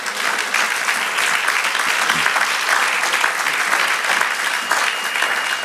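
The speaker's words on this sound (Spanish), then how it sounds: "Dale el aplauso al Señor." A church congregation gives sustained applause to the Lord during a sermon, a full, loud and even roar of clapping hands filling the room without a break.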